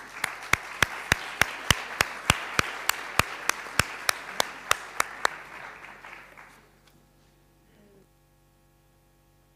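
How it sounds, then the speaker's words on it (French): Audience applause at a French event, dense steady clapping from a crowd with sharp louder claps standing out, lasting about six seconds before fading away into near silence. "Donc vous pouvez tous les applaudir pour les remercier pour cette journée"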